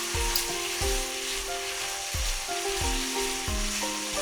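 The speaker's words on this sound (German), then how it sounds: "Wenn das Fleisch gebräunt ist und das Fett in der Pfanne knistert" Pork belly fries in its own rendered fat in a pan, sizzling and crackling steadily while periodic stirring thumps and clinks punctuate it at a close, moderate level with no voices.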